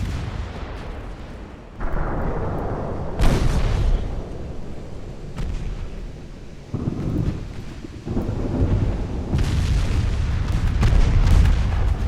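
Heavy booming blasts from torpedo hits in a 1904 French naval battle game set in a typhoon, rolling thunder-like rumbles in several bursts over a continuous storm-and-rain roar, loud and close with no talk.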